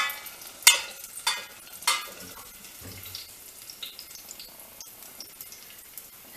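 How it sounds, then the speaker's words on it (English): Garlic bubbles and fries in a pan for a marinara sauce, a light sizzling crackle with a few louder pops and clinks of utensils, close and fairly quiet, without any talking. "our garlic is bubbling up nicely."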